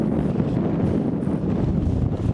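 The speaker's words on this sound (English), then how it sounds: "it is a little more than just windy up here" Strong wind buffets a high ridge in Death Valley, a loud, steady low roar battering the microphone without letup.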